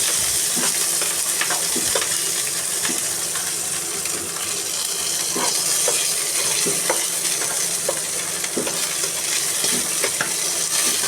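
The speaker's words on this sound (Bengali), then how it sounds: "এটাকে সুন্দর করে এখন একটু লালতে লালতে বাদামি বাদামি করে ভেজে নেব" Drumstick leaves and dried puti fish fry in a pan until browned, a steady close sizzle broken by repeated light clicks and scrapes of a stirring spoon throughout.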